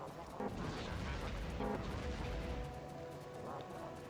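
Artillery shells pound enemy turrets in Factorio, a dense rumbling barrage of booms and crashing impacts layered over continuous low-end noise, with a couple of sharper bursts standing out.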